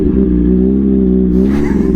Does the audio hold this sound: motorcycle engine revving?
yes